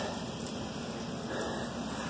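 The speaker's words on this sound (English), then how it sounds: "Drizzling." Light drizzle falls outdoors on a grey, wet day on a rooftop, a soft steady hiss of raindrops heard up close without pause, with no one talking.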